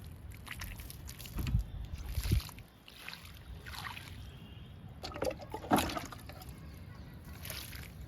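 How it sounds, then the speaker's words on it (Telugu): Water splashing and trickling onto marigold plants in uneven bursts, with sloshing and a few louder gushes, close by. "వాటర్ ఇస్తున్నానండి జడబంతి మొక్కలకి"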